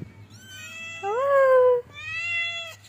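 A cat meows up close in three drawn-out, tonal calls, the middle one loudest and rising, inside a quiet home.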